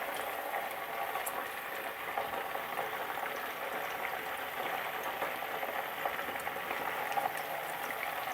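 Chicken fries in hot oil, a continuous close bubbling hiss with fine spattering crackles, steady and uninterrupted.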